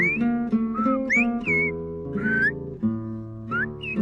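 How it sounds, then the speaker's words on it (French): Silbo Gomero, the whistled language of La Gomera in the Canary Islands, sounds as a series of sharp, gliding whistles rising and falling in pitch, close and clear with no talk. "dispensés par le professeur Eugenio Darias, ils apprennent le silbo, marque de l'identité des îles Canaries."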